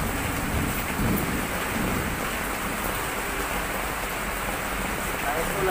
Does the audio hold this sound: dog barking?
no